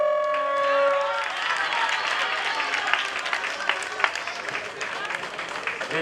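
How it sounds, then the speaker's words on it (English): After a voice speaks briefly, the crowd at a prison inmate graduation ceremony in Banjul breaks into sustained applause, with dense, steady clapping that stays close and loud before a few sharper claps stand out near the end. "A big round of applause for our."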